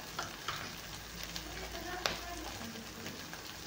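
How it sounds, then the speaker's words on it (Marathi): Spice masala roasting in a hot pan for Punjabi chole, a continuous close sizzle and crackle with occasional scraping and a sharp clink of the spoon against the pan. "बघा मसाला छान मस्त आता भाजलेला आहे आपला."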